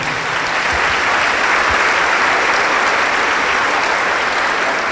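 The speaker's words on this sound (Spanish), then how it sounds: "un aplauso pues para el hermano" A crowd at a religious debate gives a guest speaker loud, dense, sustained applause, many hands clapping evenly at close range for five seconds.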